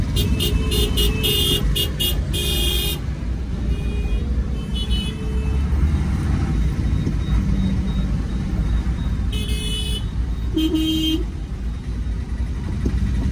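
Jammed road traffic with buses and cars rumbles steadily up close, with repeated horn toots cutting through at the start and again later.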